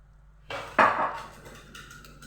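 Milk poured from a glass into a cooking pot of toasted flour and melted fat for Ramadan harira, a short splashing pour with a clatter of the pot, close and alone with no talk.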